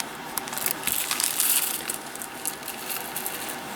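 Small ocean-themed glass beads, about 1.2 ounces of mixed sea glass, rustle and clink as a packet is handled, with a steady run of soft crinkly crunches and brighter clicks close up.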